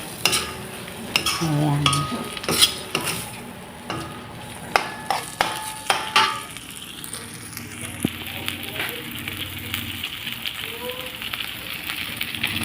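Corn kernels sizzle and crackle in a hot pan while being stirred with a utensil, with clinks and scrapes over a steady frying hiss, as someone speaks briefly.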